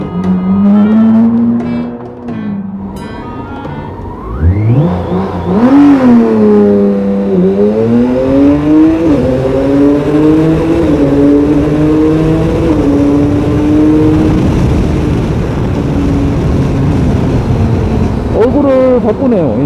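A BMW K1600GT motorcycle engine on a highway climbs in rising pitch sweeps, revving hard up to around 6000 rpm, loud and close, with someone talking over the engine throughout.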